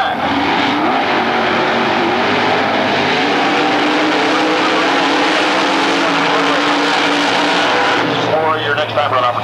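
Drag racing cars at NMCA Atlanta Dragway in Commerce, Georgia roar loudly and continuously, a dense engine blare that fades slightly at the end, with a voice speaking over it.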